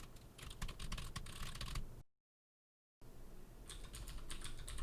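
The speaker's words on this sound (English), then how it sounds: "I'll speed up the typing since you've already seen this code" Rapid, sped-up typing on a computer keyboard while entering code, a dense run of clicky keystrokes broken by a second of complete silence before the clatter resumes.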